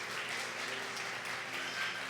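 A church congregation applauds during a Sunday service, a steady, even wash of clapping that fills the short stretch at moderate level with no speech over it.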